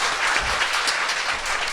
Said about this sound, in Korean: 너무나도 잘 설명해 주신 손 대표님에게 박수 부탁드립니다